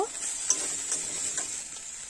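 Ground masala being stirred and fried in oil in a pan, a soft continuous sizzle with a couple of light scraping taps from the spoon, fairly quiet and without talk.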